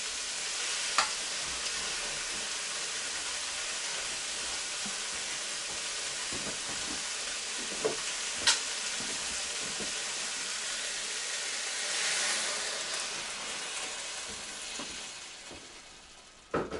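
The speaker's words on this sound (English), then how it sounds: "As you can hear, the sizzle has reduced considerably." Rice and peas sizzling in a pan, a steady dense hiss with occasional pops and crackles, close and continuous, easing slightly toward the end.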